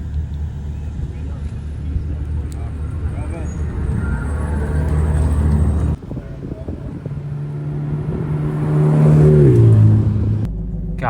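A wide-body Mercedes SLR passes at a car show during Monterey Car Week, its engine note rising and swelling loudly near the end over a busy crowd, with people talking throughout.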